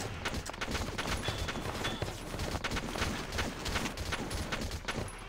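Rapid bursts of gunfire crackle in the Valkyria Chronicles video game, a dense, sustained fusillade of close shots in quick irregular rhythm throughout.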